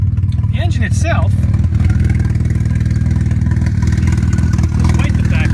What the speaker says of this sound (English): The exhaust leak is so big, it doesn't even get to the tailpipe.